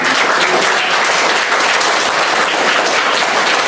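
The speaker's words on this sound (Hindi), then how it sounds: "एक बार ताली।" Children at a school parents-in-education activity give a loud round of clapping, a close, dense burst of many small hands that continues steadily for several seconds with no talking.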